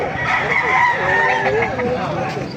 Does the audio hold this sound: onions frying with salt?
no